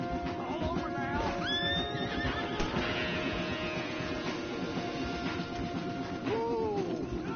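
Horses whinny in Red Dead Redemption 2 as riders dismount on a wooded path, several rising neighs over a steady bed of hoof clatter and outdoor ambience, with faint voices mixed in.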